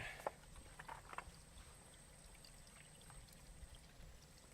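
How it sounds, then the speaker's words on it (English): A shallow stream with low water trickles and pours softly in the background, a faint continuous wash with a few small splashes near the start, outdoors on a sunny nature walk. "A little bit of water noise here, which is nice"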